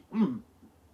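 A single short throat clearing, close and fairly loud, then quiet.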